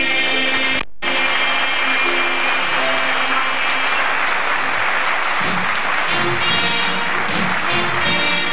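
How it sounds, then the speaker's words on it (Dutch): A carnival audience at a Vastelaovend show in Roermond breaks into dense, steady applause that stays loud throughout, with a brief cut near the start and faint crowd noise beneath. "Applaus voor Let To Be!"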